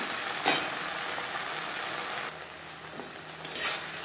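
Okra being stirred with turmeric and salt in a frying pan, a steady soft sizzle with a couple of brief louder scrapes of the spatula against the pan, close and alone.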